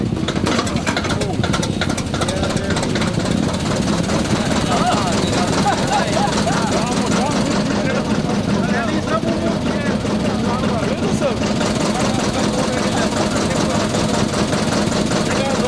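A vintage tractor engine runs steadily and loudly throughout, a continuous mechanical drone with a rough low rumble. Its owner swapped two gears so it now reaches 35 km/h.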